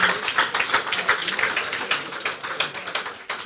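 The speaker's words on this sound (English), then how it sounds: "Please, another round of applause for him." Audience applause at a leadership lecture, a dense, steady patter of many hands clapping at moderate distance, sustained for a few seconds before tapering off.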